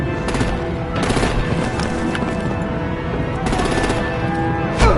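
Gunfire erupts in Telltale's Batman as loud, rapid bursts of automatic fire come in several clustered volleys over a tense game score, and a heavier thud lands near the end.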